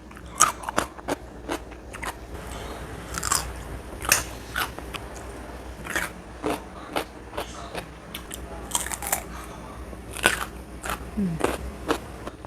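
Crunchy food, likely fried pecel snacks, bitten and chewed close up, with a steady series of sharp crisp crunches and crackles repeating irregularly over a faint background.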